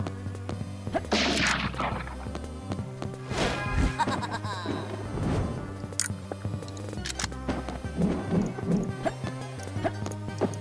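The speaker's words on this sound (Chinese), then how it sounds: "这开枪的声音是非常的有趣啊" Wooden-bullet gunshots from the mobile game Turn Undead Monster Hunter land as repeated sharp whacks and cracks over continuous game music and effects, with no speech.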